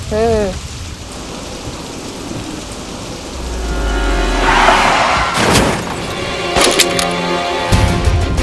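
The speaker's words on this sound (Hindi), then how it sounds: "अरे वाह, बारिश।" Steady rain patters in the background, with a couple of sharp cracks and a low rumble partway through.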